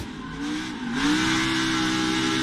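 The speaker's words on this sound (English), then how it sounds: "You hear Harrison stand on the throttle to keep it from backing into the wall" A NASCAR Xfinity Series race car engine roars close by, pitch climbing sharply as it accelerates hard at full throttle, then holding a loud, sustained high-revving drone with no talking.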